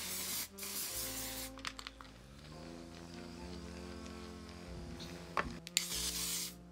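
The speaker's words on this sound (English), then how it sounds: "I want this makeup to be locked in and sealed and to be flawless, extra flawless." Makeup setting spray hisses from a bottle in a few short bursts at close range, separated by quieter stretches with faint background hum.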